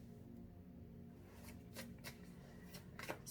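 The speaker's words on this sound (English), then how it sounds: "let's shuffle some more tarot cards." A deck of tarot cards being shuffled by hand: a few soft, crisp riffling bursts over a quiet room, close and fairly faint.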